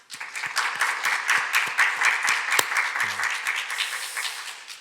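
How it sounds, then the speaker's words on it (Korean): A church congregation at a Korean Presbyterian Sunday service gives steady, full applause that holds for several seconds with no talking over it. "격려 박수 한번 보내주십시오."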